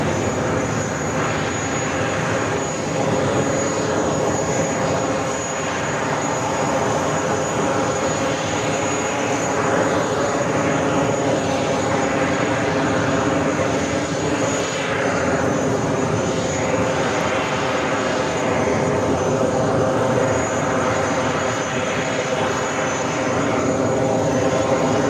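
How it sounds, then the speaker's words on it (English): An Emirates Airbus A380 in updated livery at JFK produces a sustained, loud jet roar with slowly shifting tones that swell and ebb across the whole stretch, with faint talk underneath. "This A380 Super wearing the updated livery for Emirates"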